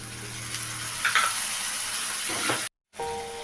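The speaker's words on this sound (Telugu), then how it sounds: "టమోటా ముక్కలు వేసుకోవాలండి" Tomato pieces frying with onions in a pan, a steady close sizzle with a couple of stirring scrapes, broken by a short silent gap before the hiss returns with a faint tonal hum.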